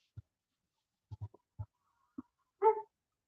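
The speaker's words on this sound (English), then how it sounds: "Oh, he's in the car barking over there." A few short, faint barks and yips from a dog, muffled and distant as if inside a car, ending with one louder bark.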